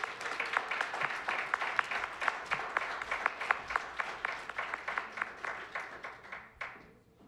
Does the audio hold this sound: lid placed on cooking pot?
no